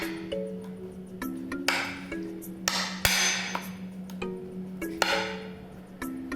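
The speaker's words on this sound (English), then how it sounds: "I'm using a chisel to go along that line" A chisel is worked along a marked line in chipboard, giving sharp irregular knocks and clinking taps at an uneven pace, close up and fairly quiet, with no talking.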